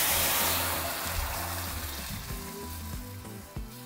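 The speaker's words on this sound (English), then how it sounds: "so once hot, we're going to add our sauce." Salsa sauce hitting a hot pan and sizzling, a steady close hiss and bubbling sputter that fades slightly over a few seconds, heard alone with no voices.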